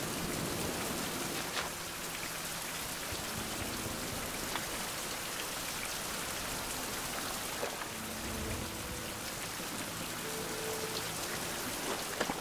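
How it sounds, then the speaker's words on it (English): Steady rain in a survival video game patters across a surface, a continuous hissing wash of drops with no talk, heard close and even throughout. "it's raining again"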